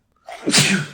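A single sharp sneeze, close and fairly loud, with no other sounds around it.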